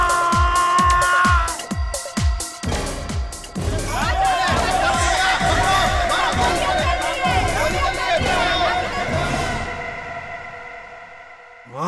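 A dense crowd shouts and chatters loudly, with rhythmic chanting at first that swells into a continuous, close roar of many voices, as at a busy scene where someone has slipped away.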